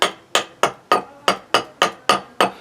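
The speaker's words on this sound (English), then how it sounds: "at this stage you can start getting quite delicate with your axe cuts" Gentle axe strokes smooth the inside of a eucalyptus wood bowl, with nine crisp, evenly spaced wooden knocks in steady rhythm. Each is close and clear with a short decay, and no talk is heard.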